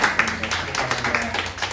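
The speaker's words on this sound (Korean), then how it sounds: "우리 에스더 큰 격려의 박수" A church congregation claps in encouragement, a brief burst of scattered hand claps with voices talking over them.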